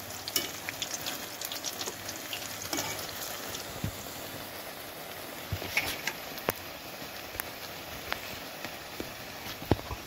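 Rice flour fritters frying in oil make a quiet, even sizzle with sparse popping crackles across the whole stretch.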